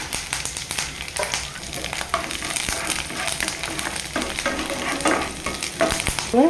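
Garlic and curry leaves frying in a pan: a steady crackling sizzle of hot oil with occasional stirring scrapes and pops, close and continuous without talking.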